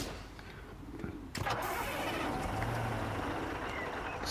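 A Scania truck engine cranks and fires up in a construction simulator game, a sudden start settling into a steady mid-pitched idle that holds close and loud.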